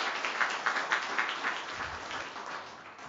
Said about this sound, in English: would you join me in giving a round of applause to all of our panelists and the participants